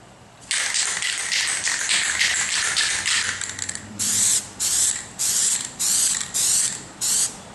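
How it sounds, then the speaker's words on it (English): Penetrant-testing developer hisses from an aerosol can, first in one long continuous spray, then in six short rhythmic bursts, loud and close with no talking. "We are ready to spray the developer."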